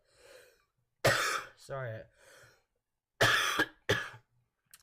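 A person coughs in several sharp bursts, close and loud, with short pauses between, and speaks briefly between them.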